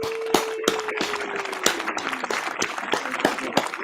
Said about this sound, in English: So everybody give her a standing ovation. Round of applause,